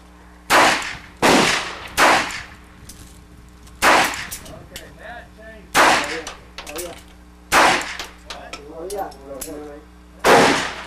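Cheap Saturday Night Special pistol fired at an outdoor range: six sharp, loud gunshots spaced a second or two apart, each with a short echoing tail, with faint quiet talk between some shots.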